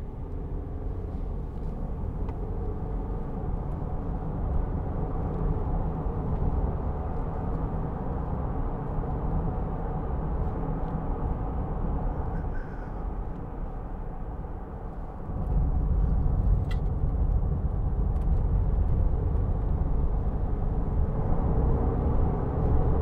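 Diesel 2016 Land Rover Discovery Sport 2.0 TD4 automatic 4WD driving on the road, a steady low engine and road rumble that swells louder partway through as it picks up speed, heard from inside the cabin with no talking.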